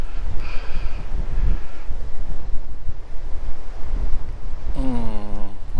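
Strong wind roars steadily across an open hillside at an ancient long barrow near Winchcombe, a loud continuous rumble buffeting the microphone throughout, with a brief tonal whistle or voice-like sound near the end.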